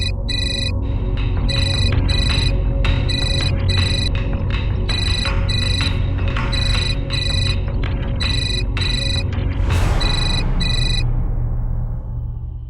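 A telephone rings repeatedly in a home during a tense domestic argument, with loud bursts of ringing at a steady rhythm over a constant low background hum and dramatic music swell near the end.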